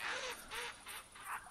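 Four quick duck quacks in a short rhythmic series from the theHunter Classic hunting game, fairly faint and close together.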